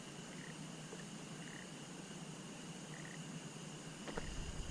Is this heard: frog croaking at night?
yes